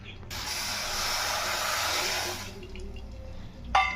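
Half a cup of water pours steadily into a pan of sugar on the stove for about two seconds, a close rushing splash, then stops, followed by quiet stove noise and a brief clink.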